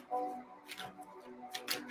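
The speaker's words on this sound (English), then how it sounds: "Shuffle." A deck of cards being shuffled during a meditation card reading, with soft riffling bursts and flutters repeating over a quiet background.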